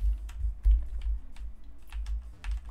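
Arrow keys on a computer keyboard are pressed in a steady run of light clicks while a Pokemon Dusk fan game is being played, heard alone at close range over a low background hum.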